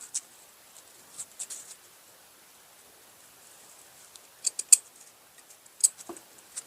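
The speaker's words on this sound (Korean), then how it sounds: "한쪽 시접을 더 짧게 자르고" Scissors snipping a fabric seam allowance while sewing an A-line blouse, a few faint, sparse crisp cuts and clicks scattered over near silence, close up with no talk.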